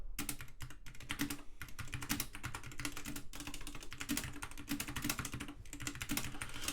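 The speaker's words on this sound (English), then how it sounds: "Holy typing." Rapid, continuous typing on a computer keyboard, dense clicking keystrokes close up with no talking.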